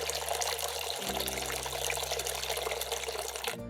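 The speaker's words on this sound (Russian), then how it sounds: "Всю воду с банки сливаем в кастрюлю с сахаром." Water pours steadily from a three-litre jar into a pot of sugar in a continuous rushing stream, close by, with a low background hum throughout.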